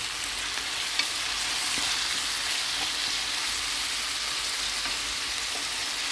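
Vegetables for borscht frying and being stirred in a pan, a continuous bright sizzle with small scraping and clicking touches of the stirring, close and steady, with no talking.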